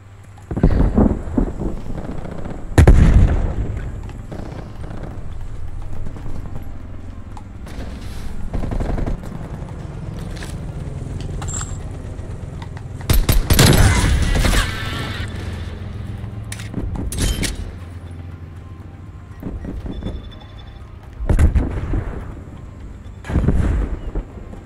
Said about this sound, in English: That was really shoddy pistol shooting.